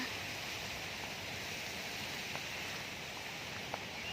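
Steady rain falling as a dense, even broadband hiss that holds unchanged throughout, with one or two faint drip ticks and no voices.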